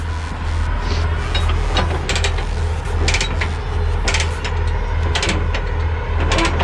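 A ratchet crank being turned while loading trucks, heard as repeated clicking pawl bursts over a steady low mechanical hum, close by and fairly loud, with no talk.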